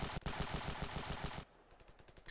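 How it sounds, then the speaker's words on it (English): Rapid automatic gunfire in the battlefield shooter game Ravenfield, a loud close burst of evenly spaced shots followed by quieter, more distant firing, with no speech. "I killed a man with my gun."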